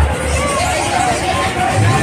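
A crowd of visitors at the Gwalior trade fair fills the air with a steady, close hubbub of overlapping voices, with someone talking over the din throughout.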